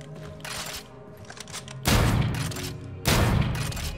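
Gunfire from a weapon in the Call of Duty video game: two loud, sharp bursts of shots, the second following about a second after the first, with quieter background game sound in between.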